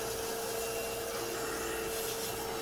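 A vacuum cleaner sucking loose toner out of a Konica MFP black developing unit, a steady, even whine with a constant tonal hum and rough, rasping air noise that never lets up.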